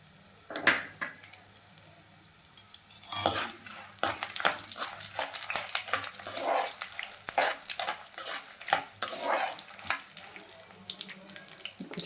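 Chana dal and dried red chillies fry in a pan for a spinach onion chutney, a low sizzle broken by frequent scraping stirs and clanks of the spoon against the pan, with no talk.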